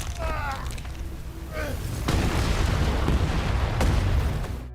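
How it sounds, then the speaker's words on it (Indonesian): A large explosion from the 2025 film Frankenstein bursts out as a heavy rumbling blast that swells and rolls on, with crackling debris and a sharp crack near the end. "tiba-tiba sebuah ledakan besar terjadi yang membuatnya terlempar hingga salah satu kakinya hancur"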